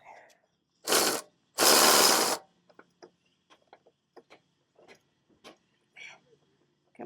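Body mount bolts on a 2006 Chevy Silverado 2500 HD being loosened and removed: two loud bursts of a power ratchet or impact tool, then a scatter of sharp metallic clicks and taps as bolts come free.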